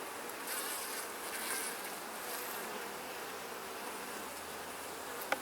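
Honey bees hum around an open hive, a continuous close swarm buzz with individual bees swelling past, ending with a small sharp tap.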